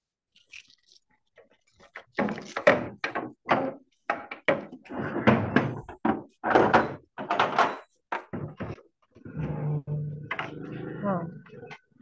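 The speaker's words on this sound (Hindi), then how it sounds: "मैं जरा दरवाजा खोल रही हूँ" An indoor door being opened, heard as a run of knocks, clunks and handling sounds at close range, ending in a rougher rattling scrape, with muffled voices around it.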